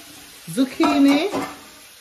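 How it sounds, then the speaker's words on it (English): Zucchini, carrot and snow peas sauteing with celery in a pan, a soft continuous sizzle heard close up beneath a short stretch of voice. "This is zucchini, carrot, and snow peas. I saute with celery."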